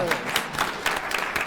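A round of applause at a school board meeting: dense, steady clapping from a room of people, fairly close and loud, with voices mixed in.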